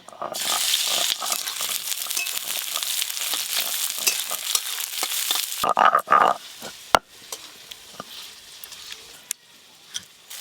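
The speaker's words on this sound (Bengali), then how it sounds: "তেল গরম হয়ে গেছে, এবার দিয়ে দেবো পেঁয়াজ কুচি" Chopped onions hit hot oil and sizzle loudly and close for several seconds. The frying then settles into softer crackling broken by scattered clinks and scrapes of stirring.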